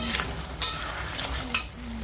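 Spices cooked down in a pan with broken pieces of taro give a soft, steady sizzle, broken twice by sharp scrapes of a spatula against the pan as the mixture is stirred.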